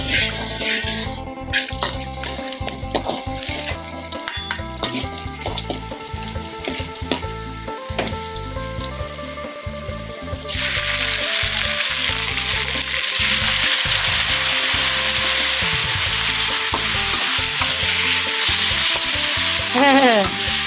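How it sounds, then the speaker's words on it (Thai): Marinated pork with mushrooms sizzles and is stir-fried in a hot iron wok, a continuous loud frying hiss with clanks and scrapes of the utensil, growing denser and brighter partway through. "ผัดกระทะเหล็กจะได้หอมๆนะคะกระทะเหล็กก็ไม่ได้เผาด้วย"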